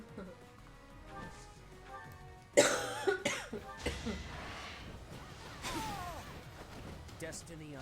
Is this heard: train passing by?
no